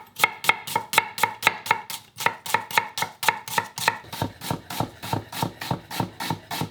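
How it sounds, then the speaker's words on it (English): A knife chops onions into a fine brunoise for a squid-ink paella sofrito, a fast, steady run of crisp close-up taps on a cutting board that speeds up near the end, with no talking. "we're going to brunoise some onions, super quick, very small."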